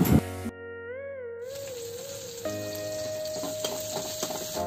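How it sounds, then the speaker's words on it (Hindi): Baby corn fries in a pan with a steady sizzling hiss, punctuated by stirring scrapes, while tonal music plays prominently over the top. "ये हमारे बेबी कॉर्न हो रहे हैं जिसको कि अभी वो फ्राई कर रहे हैं"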